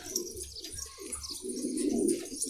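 Pigeons coo in a coop, soft throaty calls repeating close by in an overlapping rhythm with no voices.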